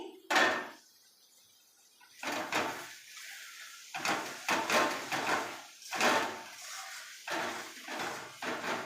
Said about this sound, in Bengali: এবার ঢাকনাটা আমি খুলে নিচ্ছি।